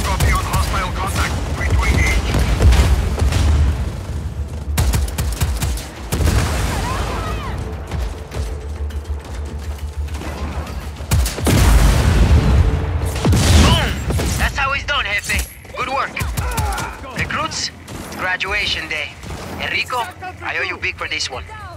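Heavy gunfire and explosions from the Just Cause 4 video game, with rapid bursts and big booming blasts coming repeatedly over about twenty seconds, loud and close, while voices shout and talk throughout.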